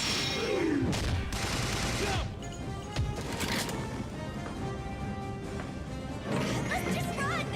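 Gunfire in a House of the Dead: Overkill shooter game, rapid bursts of loud blasts and crashing impacts, with a quieter middle stretch and another burst near the end, heavily layered with game effects.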